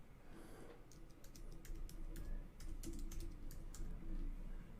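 Typing on a computer keyboard, a quiet, close series of irregular key clicks in short bursts, tapping alone with no voices.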